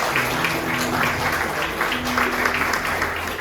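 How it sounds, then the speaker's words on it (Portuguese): Applause from a church congregation, a steady, dense wash of clapping that holds evenly throughout, with faint tonal murmurs beneath it. "Uma salva de palmas por esta palavra."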